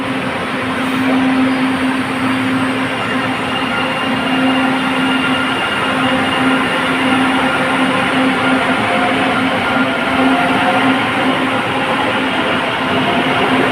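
A stainless steel commuter train passes near the entrance to Antipolo, giving a loud, steady rolling rumble with a sustained wheel-squeal tone that lasts throughout.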